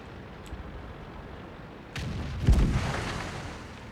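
Tank cannon shot from the T69 autoloader in World of Tanks, a faint first report followed by a heavier booming blast with rumbling decay, over a quiet battlefield hum.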